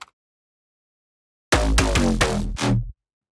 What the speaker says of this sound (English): the next synth which I have in there is the big stab and punchy synth